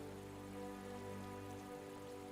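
Steady rain falling in the video game Final Fantasy XIV, a constant dense hiss of drops on surfaces with a low background hum, quiet and unbroken throughout.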